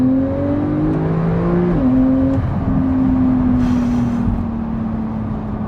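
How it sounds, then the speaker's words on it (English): A Porsche 991.2 911 Turbo S accelerates hard with loud, close engine drone, the pitch climbing and then stepping down sharply as the PDK gearbox downshifts, before pulling again. "The PDK downshifts sound really good."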